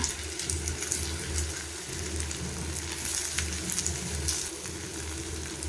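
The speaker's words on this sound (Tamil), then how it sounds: "ஸோ இது வந்து இந்த பச்சை வாசனை போகிற அளவுக்கு வதங்கட்டும்." Ground onion, tomato, cumin and pepper masala sautéing in hot oil for a brinjal tamarind curry, giving a steady, soft sizzle and crackle that runs evenly throughout with no talking.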